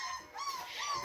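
A litter of young puppies whining close by, two or three rising high-pitched whimpers in quick succession, thin and plaintive, with no talk.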